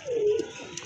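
A single pigeon gives a brief, close, clear coo from one of a pair offered for sale.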